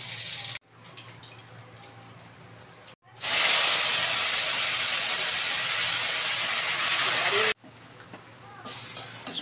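Leafy greens drop into hot oil with torn dried red chillies, bursting into a loud, steady hissing sizzle that lasts about four seconds before cutting off, with quieter kitchen sounds before and after.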